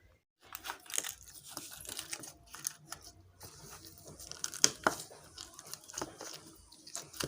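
Raw green mango pieces being mixed by hand with extra sugar make soft, irregular squelching crunches and crinkles, close and fairly quiet, with no voices over them.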